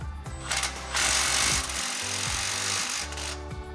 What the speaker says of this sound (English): we're gonna go ahead and tighten the clamp so she is snug